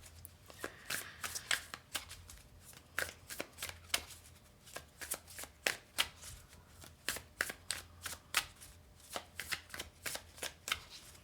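A deck of reading cards is shuffled close up, giving a steady run of crisp riffling bursts and soft slaps in an irregular rhythm, with no talking.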